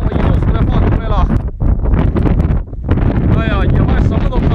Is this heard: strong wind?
yes